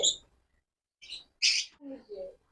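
Caged albino budgerigars give a few short, close chirps and squawk-like calls in brief bursts separated by quiet gaps.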